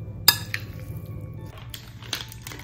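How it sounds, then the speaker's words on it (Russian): Salad being mixed in a bowl, seasoned with salt and ground black pepper, makes a sharp clink near the start and then soft scraping and tapping of a utensil against the bowl. "Хорошо перемешиваем наш салатик."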